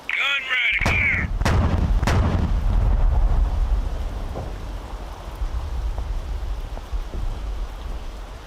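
Artillery guns fire in a custom-map video game, sharp booming shots that land about a second apart near the start. Each blast rolls off into a long rumbling tail, and quieter distant thuds follow afterwards.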